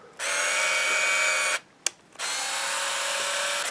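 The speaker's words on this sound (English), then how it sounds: "It sounds like a dentist's drill, and it almost makes the camera vibrate as it goes in and out." A high-pitched zoom motor on a Pentax Zoom 90 film camera grinds in a steady whine for over a second, stops with a brief click, then starts again and continues steadily, loud and close.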